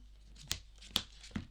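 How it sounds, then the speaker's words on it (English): A deck of playing cards being pile shuffled, three quick, soft slapping taps as cards are dealt down into piles at a steady pace, close and quiet. "I'm going to quickly pile shuffle"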